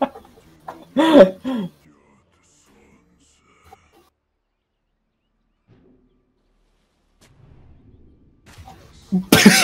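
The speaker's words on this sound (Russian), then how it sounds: "петухи" A rooster crows briefly and loudly near the start, followed by long near-silence, then faint rustling and a sudden loud burst at the very end.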